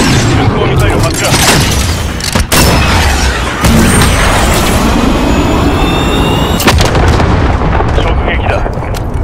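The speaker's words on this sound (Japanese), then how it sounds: "こちらジャガーズ、巡航ミサイル発射。" Cruise missile launch and impact in Call of Duty: Modern Warfare, a dense, loud wall of booming blasts and rumbling engine noise with a rising whine, game voices talking over the din throughout.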